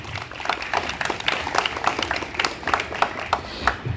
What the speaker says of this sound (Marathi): त्याच्यासाठी एकदा टाळ्या झाल्या पाहिजे